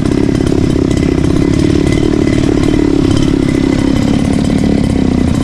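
A grass cutter's engine runs loud and steady, a continuous buzzing drone with no pauses and no voices.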